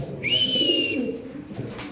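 Pigeons at a seller's stall call out in a short, clear burst nearby, with one drawn-out whistling note over a soft low murmur and faint background noise.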